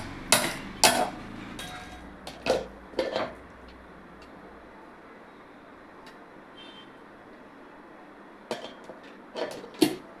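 Blended vegetable soup of drumstick, pumpkin, beetroot and tomato being strained through a sieve: scattered metallic clinks and taps in short clusters, with quiet stretches between them.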